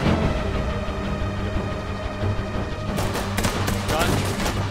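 Gunfire in the tactical shooter game Ready or Not, a dense loud burst of several sharp shots near the end, heard over a steady background rumble and game ambience.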